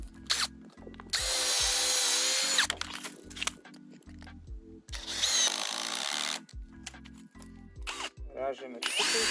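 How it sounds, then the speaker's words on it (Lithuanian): A power drill bores holes into the wooden frame of a terrace, several loud whirring bursts of a few seconds each, close by, alternating with someone talking between them. "gręžiam skylės į šitą laikant šią konstrukcijos detalę"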